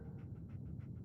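Dogmeat, the dog companion in the video game Fallout 4, pants quickly in short rhythmic breaths, faint and close, with no talking over it.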